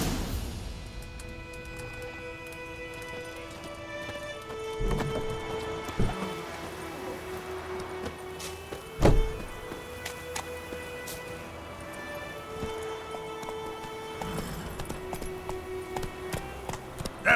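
Roach, a horse in The Witcher 3, galloping with steady clip-clop hooves over a rain-like patter, mid-distance and moderately loud, with a few sharper impacts and a musical drone underneath.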